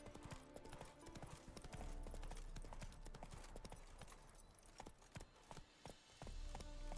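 Steady clip-clop of horse hooves from Roach being ridden in The Witcher 3, a continuous fast rhythmic gait close by and fairly loud, with no talk over it.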